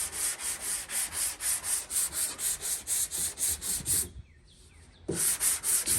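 Rhythmic back-and-forth sanding strokes rasp steadily across a car body panel, close and even, pausing briefly before resuming.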